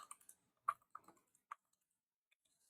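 Sparse, quiet clicks of typing on a computer keyboard, a handful of separate keystrokes with pauses between them, close and alone in an otherwise silent room.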